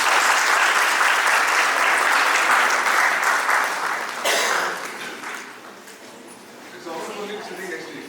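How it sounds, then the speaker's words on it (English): An audience at a principals' conclave in Lucknow gives a guest a dense round of applause, loud and sustained at first, then thinning and fading as a voice begins speaking near the end. "Audience, huge round of applause, please."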